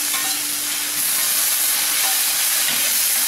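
Cabbage and butter beans sautéing in hot oil for a vegetable kurma, producing a loud, continuous sizzling hiss with faint stirring scrapes, close up and without speech.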